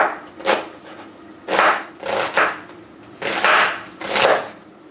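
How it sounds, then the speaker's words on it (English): A knife dices a red onion on a wooden board, coming as about five distinct bursts of chopping, close and crisp, with short pauses between them and no talk. "dice a red onion"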